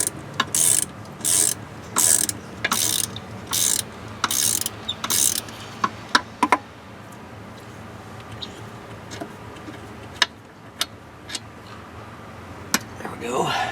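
Hand ratchet loosening a bolt on a Mercruiser Alpha 1 stern drive, a run of about ten quick ratcheting bursts in steady rhythm, close and clear, then quieter scattered clicks and handling sounds.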